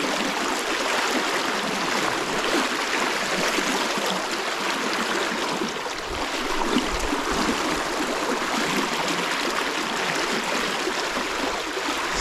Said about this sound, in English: Nice water, very nice fly water.